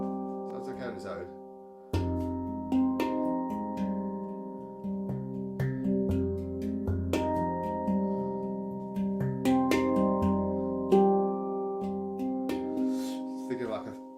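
Handpan played with a steady run of struck, ringing metallic notes that overlap and sustain, close and clear, with no talking.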